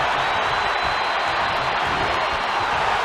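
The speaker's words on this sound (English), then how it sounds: "The sound of this crowd is deafening, and he's asking for more." A crowd in the WWE 2K22 wrestling video game roars without a break, a loud, dense wall of cheering noise that holds steady throughout.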